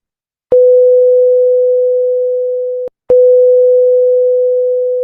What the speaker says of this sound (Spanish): lo que están escuchando es como una onda sonora empieza de alto volumen y va disminuyéndose hasta desaparecer